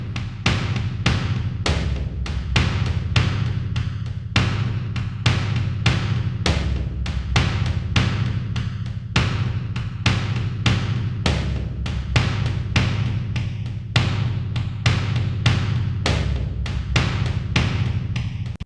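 Cinematic war drum in boss-fight game music, heavy low booming hits in a steady driving pulse, loud and continuous for the whole stretch with no voice.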